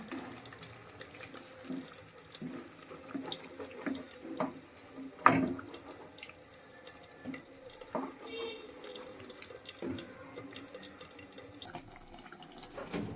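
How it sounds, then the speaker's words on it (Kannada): Water poured from a rinsed mixer jar into a pan of stuffed brinjal masala cooking in a home kitchen, a steady trickling splash that runs close by for several seconds with small clinks, no talking. "ಇದಕ್ಕೆ ಸ್ವಲ್ಪ ನಾನು ಮಿಕ್ಸಲ್ಲಿ ತೊಳೆದ ನೀರನ್ನು ಇದಕ್ಕೆ ಹಾಕ್ಕೊಳ್ತಿದ್ದೇನೆ"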